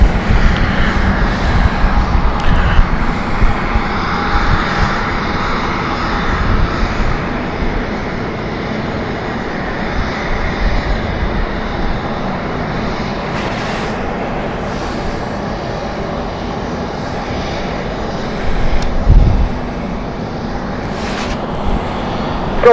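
Light aircraft engine at London City airport, a loud steady drone that holds for the whole stretch with slight swells and no voices.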